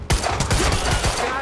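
Rapid gunfire bursts from a shootout in the Quantum Break video game, a dense, loud fusillade of overlapping shots with sharp low thumps, continuous for the whole short stretch.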